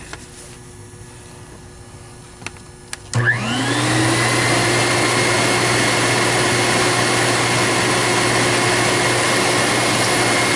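Lindhaus HealthCare Pro Eco Force 380e upright vacuum cleaner fitted with a fairly new non-HEPA filter, switched on after a few quiet clicks, its motor spinning up fast into a loud, steady, close whine that runs without a break.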